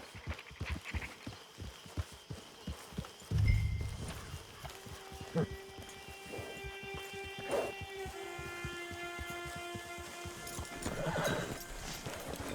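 A horse in a Wild West game clip-clops at a walk and lets out a loud whinny partway through, hooves continuing under faint background noise and a low voice.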